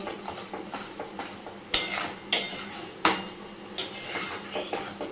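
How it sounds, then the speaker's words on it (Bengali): A spoon or ladle stirs a fried spice mixture in a metal pot, sharp clanks and scrapes against the rim and base coming in an uneven rhythm, a few louder knocks standing out, close and clear with no talk. "এবার ভালো করে নাড়াচাড়া করে নেব"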